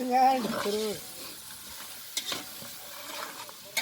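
Chicken legs fry and are stirred in a pan in a Konkan home kitchen, with a loud scraping stir and sizzle at the start, then quieter sizzling and sporadic clatters of the spoon, while people talk nearby.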